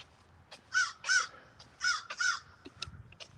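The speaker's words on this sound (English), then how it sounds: "How do you like them crows" Crows caw outdoors in a series of harsh, loud calls, two pairs of close caws followed by a few quieter, shorter calls trailing off, with no voices.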